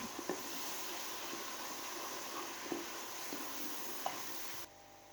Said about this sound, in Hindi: हम इसके अंदर लहसुन अदरक हरी मिर्च का पेस्ट डाल देंगे। तो भी अच्छे से भून लेंगे